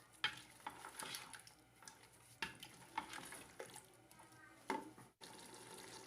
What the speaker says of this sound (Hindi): दही ऐड करने के बाद अब हम इस तमाम चीज़ों को तकरीबन 8 से 10 मिनट के लिए मीडियम फ्लेम पे अच्छी तरह से इनकी भुनाई कर लेंगे।